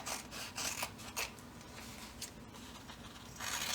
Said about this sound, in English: I'm actually going to cut this on the fold